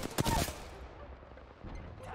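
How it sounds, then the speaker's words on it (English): Gunfire in the Apex Legends video game: a short, loud burst of shots near the start, then dying away into quieter game background noise. "Should I start firing?"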